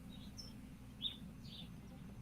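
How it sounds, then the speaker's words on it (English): Birds chirp outdoors on a breezy day, a few short high tweets spaced across two seconds, moderately faint over a steady low rumble of wind. "There's a bird. There's birds. I got birds"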